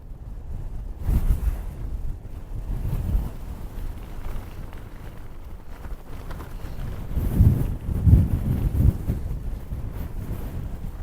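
Wind on a mountain section of the Appalachian Trail buffets a microphone fitted with a windshield, making low, rumbling gusts that swell and fade, with stronger thumps near the end and no voices.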